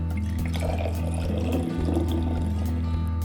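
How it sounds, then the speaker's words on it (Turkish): Homemade lavender water pours into a bottle in a steady, continuous liquid stream with a low gurgling fill, close and fairly loud, with no talking. "Şimdi bunu bu şişemin içerisine dökeceğim."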